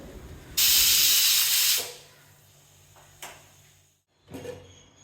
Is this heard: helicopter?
no